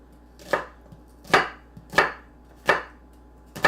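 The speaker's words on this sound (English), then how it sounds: "So I'm just cutting this down, cutting it in half" Knife chopping through mushrooms on a cutting board, five crisp, close thuds spaced at an even, unhurried rhythm, with no talk.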